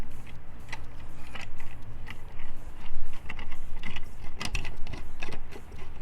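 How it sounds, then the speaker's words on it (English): A screw is driven into a plastic part of a Clorox 360 cleaning device, giving scattered small clicks, ticks and light rattles close up with handling noise and no talking. "And then this screw goes in, screws into this piece."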